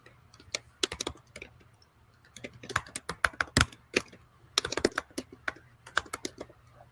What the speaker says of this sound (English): Oh, sorry, I was typing.